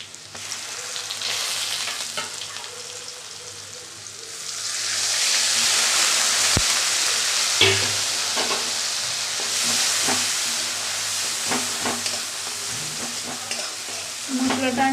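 Spices and salt fry with lightly browned onions in a pan while making a pabda fish paturi. A soft stirring scrape gives way to a loud, steady hissing sizzle with scattered clinks of a spoon, and no voices.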